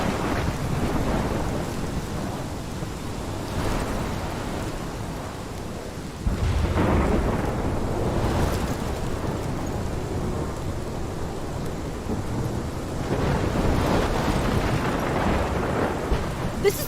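Thunderstorm in the video game Life is Strange, with steady heavy rain and wind throughout and several deep rolling thunder swells building and fading, no voices.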